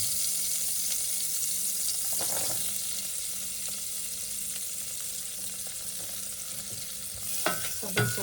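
Garlic sizzles in a frying pan at the start of a rice porridge, a steady broadband hiss running throughout with a few brief clatters of stirring and utensil knocks near the end; no talking.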